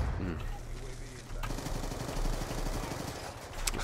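Rapid automatic gunfire from the Black Ops 2 video game, loud bursts of repeated shots running through the whole stretch with a sharp onset partway in, a voice faintly present underneath.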